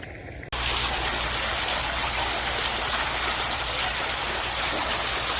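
Steady rushing of water flowing through an irrigation channel in a cumin field, loud and continuous, starting abruptly after a brief moment and holding evenly throughout with no voices.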